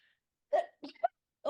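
A single sharp sneeze bursts out at close range, followed by a couple of short breathy vocal sounds, with silence before it.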